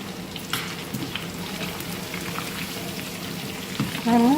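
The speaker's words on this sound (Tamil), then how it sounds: "நல்லா பொறிஞ்சு மேலே வரட்டும் கரண்டி போட்டு கிளறிக்கிட்டு இருக்கக்கூடாது" Pieces frying in hot oil while cooking chicken biryani, a steady close crackling sizzle that lasts throughout with a few louder pops, left alone without stirring and with no talk.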